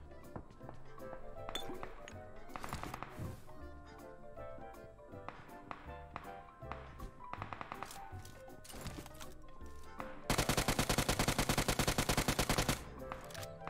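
Gunfire in the PUBG Mobile video game, scattered single shots and clinks followed by a sustained loud automatic burst near the end, all heard over game music.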